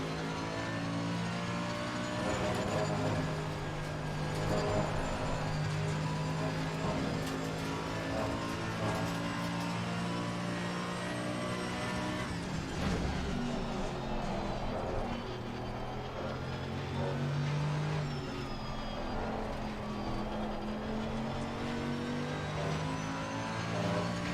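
Mercedes AMG GT3 race car in a racing game at full throttle, a loud sustained engine howl that climbs and holds through the gears, with a brief dip mid-run before pulling hard again.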